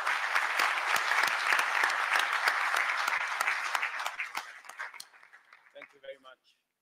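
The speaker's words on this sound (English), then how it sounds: "With applause, we welcome His Excellency." Sustained applause from a large audience at a formal Kenya–Poland economic forum welcomes the President of Kenya, steady at first, then thinning into scattered claps before stopping.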